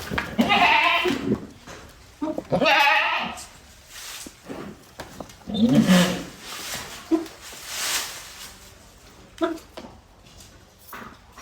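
Goats bleat repeatedly in a village setting, several loud, wavering calls close by in short bursts with pauses between, with a little background human voice and movement.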